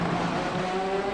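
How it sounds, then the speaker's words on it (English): Race cars on iRacing's Road America circuit, a steady loud engine drone with tonal whine as the cars brake hard into a corner, no speech over it. "Heavy braking."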